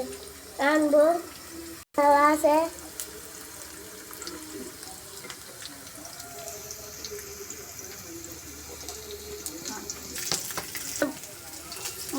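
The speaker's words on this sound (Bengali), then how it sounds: "বিরিয়ানির মাংস কষিয়ে নিব এখন দিয়ে দিলাম তেল" Meat for biryani is stirred and fried in oil, a soft continuous sizzle under background kitchen noise, with a few brief clatters and splashes early on and a voice speaking at the start.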